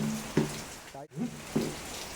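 Heavy monsoon rain pours in a Konkan village as a steady broadband hiss running through the whole stretch, while voices talk over it in short bursts.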